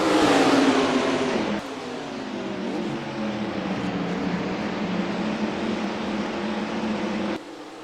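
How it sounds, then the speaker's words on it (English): IndyCar race cars in the NR2003 racing game fire up and roar at Mid-Ohio, a loud, dense engine drone with a strong opening burst that settles into a steady multi-car rumble with shifting pitch, cutting off abruptly near the end. "36 drivers fire their engines up for racing here in Mid-Ohio to kick off the Samsung IndyCar Series"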